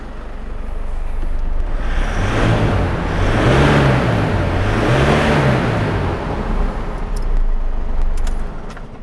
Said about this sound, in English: I didn't even have to rev it too much